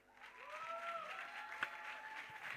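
Audience applause at an evening Shri Adi Guru Puja program, a soft continuous patter of clapping throughout with a faint tone and a brief louder knock, fairly quiet and distant.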